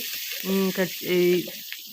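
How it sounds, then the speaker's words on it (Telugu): Curry leaves frying in hot oil for tomato pulihora, two bursts of loud crackling sizzle over a steady background hiss, with a voice speaking softly beneath. "కరివేపాకు ఖచ్చితంగా వేపుకోవాలి"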